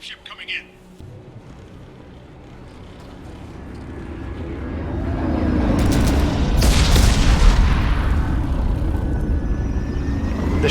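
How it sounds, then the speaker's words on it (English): Dropship arriving in the video game Mass Effect 2, a low roaring engine rumble that swells steadily over several seconds into a loud, booming whoosh amid distant game noise. "We got a dropship coming in."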